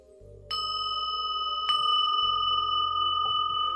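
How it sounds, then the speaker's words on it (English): Bells ring out at the close of a yoga and meditation session, three separate clear strikes each leaving a long, sustained, shimmering tone with no talking. "Let's end it with some more bells."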